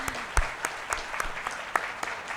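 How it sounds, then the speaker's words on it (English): An audience applauds after a talk on leadership, with dense, close clapping that holds steady through the short stretch and carries a few sharper individual claps. No one speaks. "I'd like to give them all a big round of applause."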